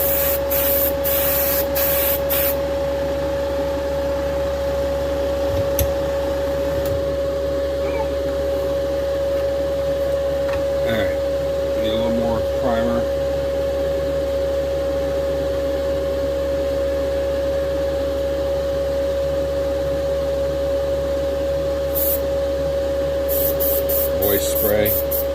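Spray gun laying a light mist coat of primer over the body of a 1969 Dodge Charger, a steady hiss running the whole time with a constant hum beneath and a few faint clicks.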